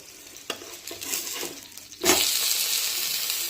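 A sprouted moong thalipeeth roasts in oil on a pan, with a few scraping and handling sounds followed by a sharp clatter and then a louder, steady close sizzle that continues to the end, with no talking.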